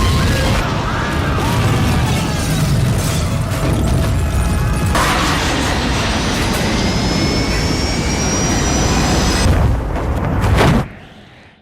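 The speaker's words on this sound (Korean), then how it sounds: "그런데 갑자기 흔들리기 시작하는 비행기." A passenger jet flying over snowy Alaska begins shaking, with a loud, continuous engine roar layered with rattling and rising whining tones that ends abruptly near the close.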